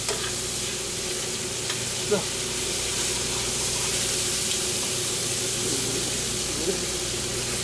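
Meat sizzles and fries in a pan in a steady, close, continuous hiss, with a few small stirring clicks and a faint hum running underneath.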